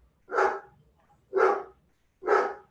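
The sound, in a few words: therapy dog barking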